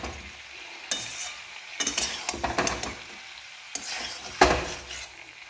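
Small fish stirred into eggplant and potato in a pan, a few scraping stirs with sizzling frying sounds in between, close and fairly quiet with no talk.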